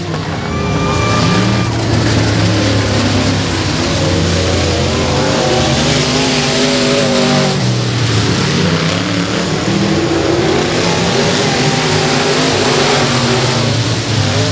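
Pro Mod race cars roaring around the quarter-mile dirt oval at Boothill Speedway in Louisiana during a heat race, a loud continuous blend of several engines revving and droning, rising and falling as the cars pass.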